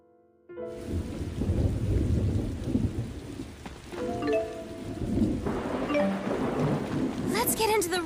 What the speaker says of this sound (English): I hope there won't be any more thunder.